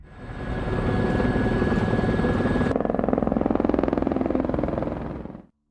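A rented helicopter runs steadily with a loud, dense whirring rotor chop and engine drone. The pitch and texture shift partway through, and the sound holds evenly before cutting off abruptly at the end.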